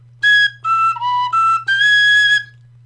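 Tin whistle playing the Tin Wedding Hornpipe slowly, five clear sustained notes rising and falling, close and solo over a low steady hum.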